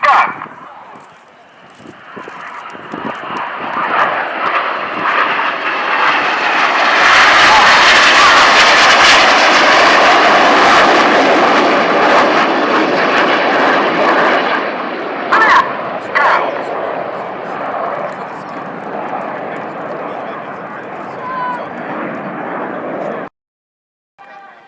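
Red Arrows jets roaring overhead at an air show as pilots fly tight matched formation rolls, a loud sustained engine roar swelling to a peak and slowly fading, with a commentator talking over it.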